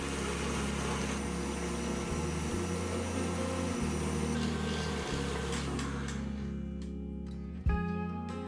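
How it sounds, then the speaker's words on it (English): Electric mixer whisking egg whites for a strawberry meringue dessert, a steady loud motor whine with a humming drone that shifts pitch slightly every couple of seconds, running continuously with no voices. "Whisk the egg whites for about 8 minutes until they become thick."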